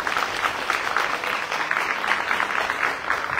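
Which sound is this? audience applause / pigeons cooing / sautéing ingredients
audience applause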